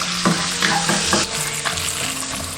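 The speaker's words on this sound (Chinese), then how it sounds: "锅留底油，下入腊肉炒香。" Cured pork stir-fried in a little oil in a wok, giving a steady loud sizzle with repeated scraping strokes of the spatula throughout.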